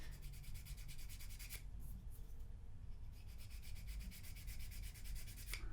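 A file rasps up and down beneath a fingernail shaped for classical guitar playing, quiet close rhythmic scraping strokes in bursts with a short pause midway.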